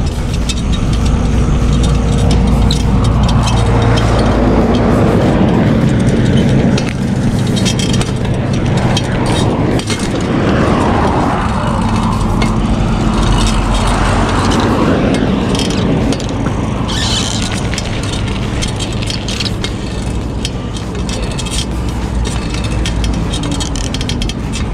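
A heavy lorry rumbles past on the road, its low engine drone steady and loud throughout, with wind and mechanical noise from a moving bicycle close by.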